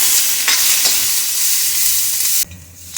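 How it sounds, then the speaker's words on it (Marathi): Green chillies dry-roasting in a pan for Kolhapuri thecha, a dense steady sizzle with scraping stirs, a few sharp spoon strokes, then the sound drops off abruptly near the end; no one talks. "मिरच्या भाजल्या आहेत अजून जरा भाजायच्या आहेत"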